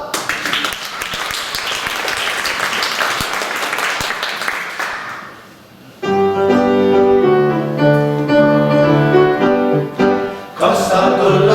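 Audience applause fills a choir concert hall, dense and sustained for about five seconds before fading out, then a choir begins singing loudly with rich held harmonies.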